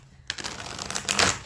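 A deck of cards is shuffled up close, a dense rapid riffling flutter that starts abruptly and builds toward the end, heard alone without talk.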